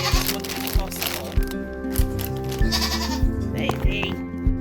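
A goat bleats repeatedly and loudly nearby, with rhythmic thumps and crinkling sounds around a feed area, and a person talks at times.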